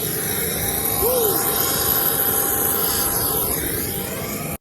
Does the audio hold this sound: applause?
no